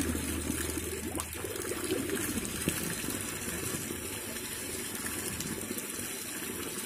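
Clean water pours and splashes steadily while rinsing catfish hatchery equipment before spreading eggs, a continuous close gushing flow with no voices.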